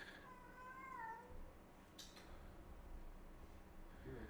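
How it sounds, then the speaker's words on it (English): A pet cat at a ranch meows a few times, a faint drawn-out cry then shorter calls, with low background rumble and no talk. "And I do apologize for my cat."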